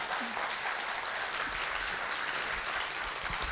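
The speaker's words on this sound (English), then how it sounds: "Another round of applause." Audience applause at a live performance event fills the space, a dense, even wash of many hands clapping at moderate volume throughout, with no voices over it.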